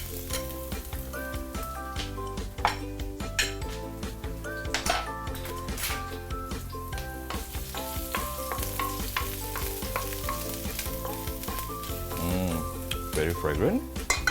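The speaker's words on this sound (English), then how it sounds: "put some oil into cold wok and raise the heat. We can actually saute some ginger." Ginger sautés in hot oil in a wok for claypot chicken rice, giving a steady close sizzle with scattered clinks and scrapes of stirring, played over background music.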